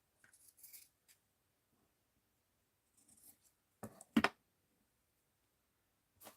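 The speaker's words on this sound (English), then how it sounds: "we're going to cut an angle here" Scissors cut through a mixed-media art journal cover at an angle, a few quiet snips and rustles followed by two louder, sharper crunching cuts close by, in an otherwise quiet room.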